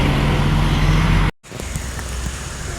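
A West Sumatra intercity bus speeds past in night traffic, a loud, close rush of engine and road noise that cuts out briefly, then returns as a rougher rumble.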